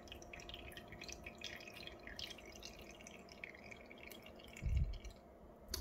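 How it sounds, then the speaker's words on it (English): Water drips and trickles faintly into a container during an Archimedes' principle demonstration, quiet and sparse, ending in a brief louder splash near the end. "Again, let's pour some water inside."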